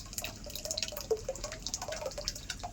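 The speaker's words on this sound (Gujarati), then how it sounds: "ચૂંદડીમાં નાખી દેવાનું એટલે એનું પાણી જે નીકળે ને એ હતું પાણી કાઢી નાખવા દેવાનું" Water dripping from curd strained in a cloth, a quick irregular series of small close drips and plinks, quiet and alone with no talk.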